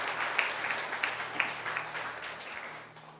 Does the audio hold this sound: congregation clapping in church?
yes